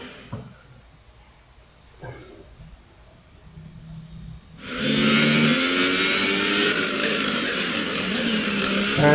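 Formula 1 car engine in the F1 2018 racing game during free practice at the Brazil circuit: a quiet low idle rumble, then an abrupt jump to a loud, sustained high-pitched revving whine that holds steady to the end.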